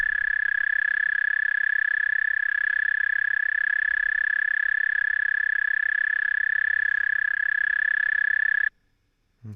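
Insect song slowed to quarter speed rings as a steady, loud, continuous tone for most of the clip, then cuts off abruptly near the end.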